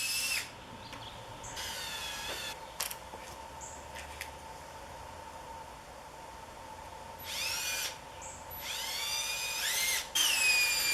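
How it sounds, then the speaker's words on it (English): A power drill bores holes into a wooden lattice board on a gate, several loud whining bursts that rise in pitch as the motor spins up, separated by pauses over steady background hum. "I just have to drill holes into the lattice board again."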